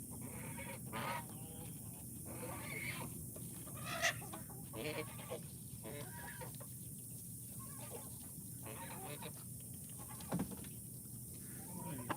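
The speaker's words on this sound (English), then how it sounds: "Is there really a chicken in my car right now?" A chicken clucks inside a car during morning farm chores, soft scattered clucks and calls under a steady background hiss.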